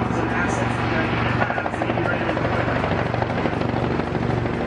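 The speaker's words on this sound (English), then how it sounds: "Maging ang kanilang attack helicopters sa pamagitan ng air assault" Military attack helicopters fly low during a combined-arms live fire exercise by Philippine and US Marines, their rotors giving a loud, continuous rhythmic thumping and whine while a narrator speaks over them.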